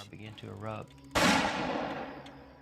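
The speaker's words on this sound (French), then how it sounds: "Très vite, les coups de feu ont éclaté." A single loud, close gunshot blast that decays into a long noisy rumble, following a brief tonal sound at the start.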